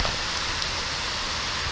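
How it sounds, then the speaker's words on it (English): Steady rain falling outdoors in Washington, a dense continuous hiss with no gaps, close and fairly loud throughout. "Yeah, nice rain."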